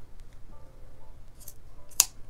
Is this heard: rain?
no